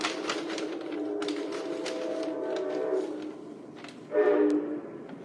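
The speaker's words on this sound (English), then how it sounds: "And I hear a train in the..." A train passes outside, with a distant rumble under the rest of the sound and a short, louder horn blast near the end.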